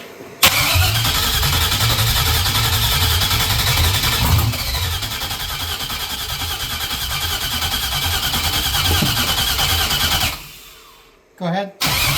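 A 1968 Cadillac hearse with an LS engine swap cranking steadily for about ten seconds, loud and continuous, then cutting off into brief silence as it fails to catch from running out of fuel; voices talk faintly underneath.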